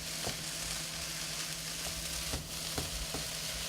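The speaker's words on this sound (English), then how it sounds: "you can hear it's really starting to sizzle now" Chicken stir fry sizzles loudly in a pan with a steady crackling hiss throughout, broken by occasional stirring scrapes and pops.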